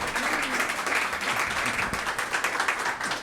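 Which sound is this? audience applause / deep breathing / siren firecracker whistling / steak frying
audience applause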